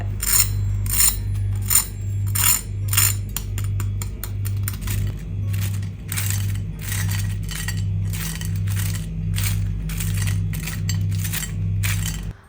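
Crisp, repeated crunching of a fried egg cutlet being broken, sharp crackly bursts in a steady rhythm, close and loud with no talking.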